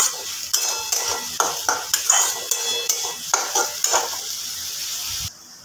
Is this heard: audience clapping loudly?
no